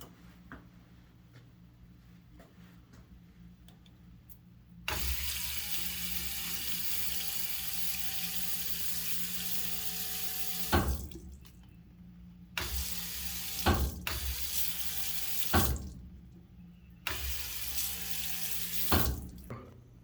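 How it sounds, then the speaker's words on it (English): Running tap water splashes into a sink while glasses are washed with soap, a hissing stream that starts after a quiet lead-in, then cuts off and restarts several times with clinks and handling noises between bursts. "Now we'll be using soap and water to wash the glasses"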